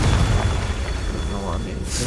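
Confringo spell explosion in the video game Hogwarts Legacy, a loud, rumbling boom that fills the whole clip at close range, with a voice speaking over it.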